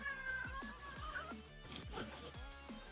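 A house cat meows several times in short, close calls, with a person's voice murmuring underneath.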